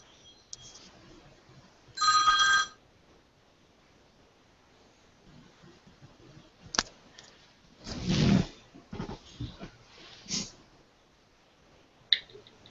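A phone rings once in a short, bright burst, followed by a few scattered clicks and soft rustling handling noises in an otherwise quiet room.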